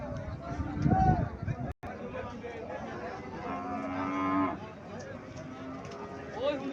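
Deshi cow with a 16–17-day-old Sahiwal-cross calf at the Mirshanni cattle market in Cumilla, with moos rising over steady crowd chatter and voices close by throughout.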